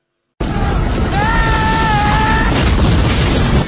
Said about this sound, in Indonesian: Dan ledakan terjadi setelah mereka mampu keluar.